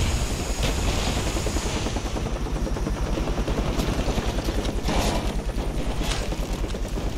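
Steady, loud whir of an attack helicopter's pulsing rotor in Call of Duty: Black Ops multiplayer, with scattered bursts of gunfire layered over it throughout.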